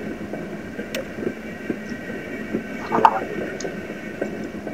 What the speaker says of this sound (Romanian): Stai, mă, că duc trenul